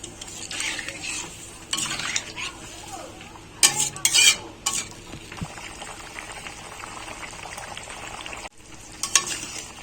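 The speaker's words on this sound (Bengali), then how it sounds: "ঝোল ফুটে গেছে" Fish curry broth for a tangy rohu dish with raw mango and pumpkin, flavoured with mustard and green chilli, simmering in a pot: a low steady bubbling hiss broken by a few sharp metallic clinks and scrapes of a utensil.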